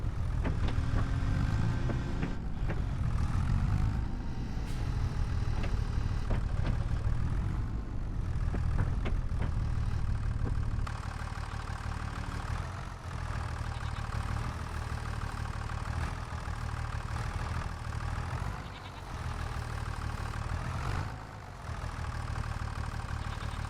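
A tractor engine idles in Farming Simulator 25, giving a steady, low, continuous rumble that stays near and fairly loud throughout with only slight dips.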